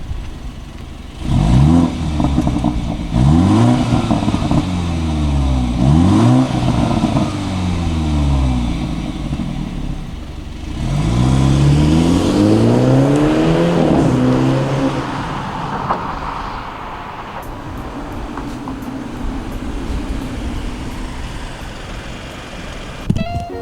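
A BMW F30 330i fitted with an OEM 340i dual exhaust, set in Sport mode, revs three times with rising and falling engine sweeps, then pulls away hard from a standstill, loud and close.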